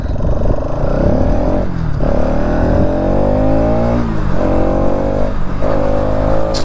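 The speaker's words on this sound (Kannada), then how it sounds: "ಎಕ್ಸಾಸ್ಟ್ ಎಷ್ಟು ಬೇಸ ಬರುತ್ತೆ ಅಂದ್ರೆ ಎಕ್ಸಾಸ್ಟು" A Bajaj Pulsar NS200 motorcycle engine is revved hard and close, its exhaust rising and falling in three or four strong throttle sweeps with a deep, raspy drone between them.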